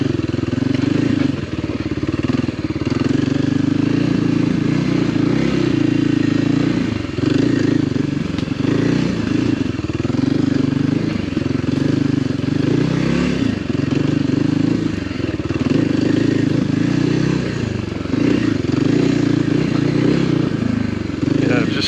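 Kawasaki KLX 300R motorcycle engine running steadily while cruising in first gear, a continuous close, loud drone with some rattling and clatter throughout.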